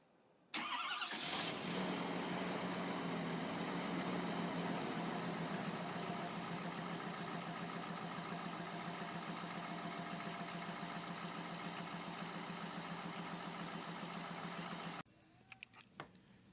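A 2013 6.7-liter turbo diesel truck engine fires up after a cold start in about minus 35 degree weather and settles into a loud, steady, rumbling idle that holds close and unbroken for roughly fourteen seconds before cutting off.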